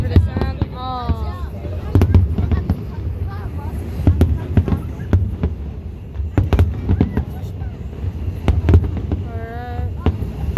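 Fireworks bursting outdoors in a rapid series of sharp cracks and booms, some with whistling rises, close and loud, with people chattering and exclaiming throughout.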